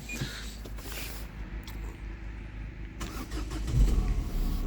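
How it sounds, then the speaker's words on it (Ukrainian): A Renault Megane dCi diesel engine rumbles steadily at idle, a low continuous drone with slight variations, fairly close. "Двигун працює добре."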